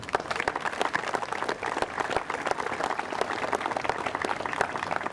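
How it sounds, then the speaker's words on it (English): An audience at a child advocacy program event gives a round of moderate applause, many hands clapping steadily and evenly, fairly close, with no voices over it. "They all deserve a big round of applause and our thanks."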